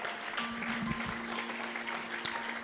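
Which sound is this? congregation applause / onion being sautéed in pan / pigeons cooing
congregation applause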